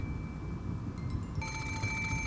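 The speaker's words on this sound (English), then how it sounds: "It was the antique extension phone sat on the table in Grandfather's study." An antique extension telephone in a visual novel starts ringing, bright metallic bell trills entering partway through over a low steady background hum.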